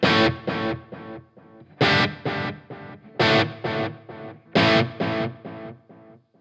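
Dark, warm distorted electric guitar chords strummed in rhythmic bursts, each stroke followed by softer repeating echoes from a T-Rex Replica delay pedal with the high cut fully dialed in, trailing off between phrases.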